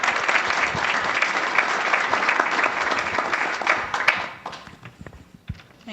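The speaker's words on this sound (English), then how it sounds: "If you could give them a round of applause." Audience applause for a panel at a business advisory council education summit, a dense steady wash of many hands clapping that fades toward the end, leaving a few scattered claps.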